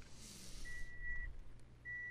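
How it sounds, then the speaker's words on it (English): A quiet electronic alarm beeps in steady tones, two short beeps and then a third starting near the end, sounding faintly against a low background hum with no talking. "That was the dipping alarm."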